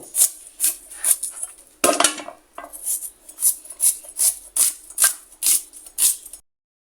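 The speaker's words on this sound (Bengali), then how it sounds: "এখন আমি পেঁয়াজ কাটটা নিব এভাবে করে পেঁয়াজটা কাটটা নিব" A knife chops through an onion on a board in steady, evenly spaced strokes, each a crisp close tap with a brief crunch, about two per second, with one rougher scraping moment before the rhythm settles.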